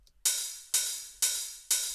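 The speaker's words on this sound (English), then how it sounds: "909 head from the house kit." Four evenly spaced Roland 909 hi-hat hits from a house kit, bright and hissy, each with a crisp attack and a short sizzling decay, played alone.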